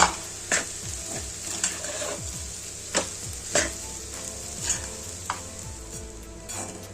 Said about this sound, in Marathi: आता परतून घेऊया अशी।